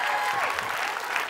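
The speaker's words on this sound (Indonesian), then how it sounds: "Tepuk tangan sekali buat Barli" A studio audience on a Tonight Show talk program claps briefly after a fashion designer guest segment, a short, dense burst of applause.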